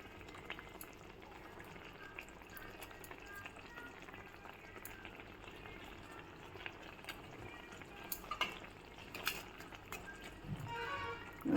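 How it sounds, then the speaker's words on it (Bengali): Fish curry with fried fish pieces and potatoes simmering in a pot, giving a faint, continuous soft bubbling with a few small pops, no voices. "ভালো করে ফুটুক"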